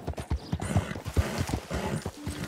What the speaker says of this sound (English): Come on, horse, climb, climb,